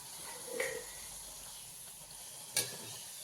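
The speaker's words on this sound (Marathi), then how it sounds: "अशा प्रकारे मी अजून एक पुरी तुम्हाला तळून दाखवते" Spinach-beetroot puri frying in hot oil gives a steady close sizzle and hiss, with a couple of brief sharper crackles standing out.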